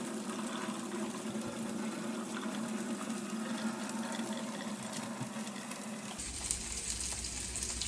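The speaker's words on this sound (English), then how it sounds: "I'm just gonna try to pour it out without pouring out any of the actual spaghetti." Water from a pot of boiled spaghetti is poured off in a steady broadband gush and splash that continues for several seconds and then shifts in tone near the end, heard without any talking.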